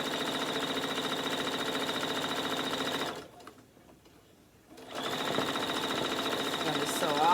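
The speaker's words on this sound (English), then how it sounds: "I'm just going to sew that all the way down." A sewing machine stitches quilt patches in a steady, rapid whir, stops for about two seconds of near silence, then starts again and continues close by.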